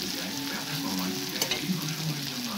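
A tempering of black cumin, dry chilli, onion and garlic frying in hot oil gives a steady crackling sizzle, with a few soft stirring knocks.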